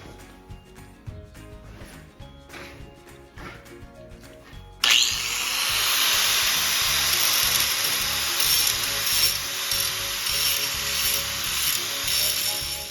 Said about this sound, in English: We're gonna have to grind off some of these old welds that are on there so we get a nice clean surface